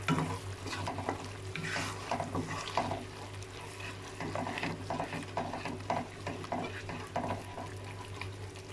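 Chilli, coriander and cumin powders with salt stirred and sautéed in a pan for a chana dal masala side dish, with steady sizzling and repeated scraping stir strokes throughout.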